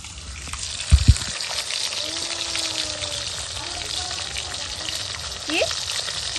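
Rohu fish pieces frying in a pan hiss in a continuous close sizzle. A couple of sharp knocks come early on, and faint background tones and a muffled voice sit underneath.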